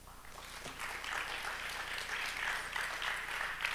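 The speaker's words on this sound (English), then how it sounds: "Can we give them another round of applause?" An audience at a church gathering claps together, a steady, dense wash of applause that swells after a moment and holds, with a faint voice underneath.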